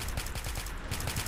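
Rapid gunfire from a GTA multiplayer battle mode match, a dense unbroken crackle of automatic shots holding at one steady level for the whole stretch, fairly loud and with no voices over it.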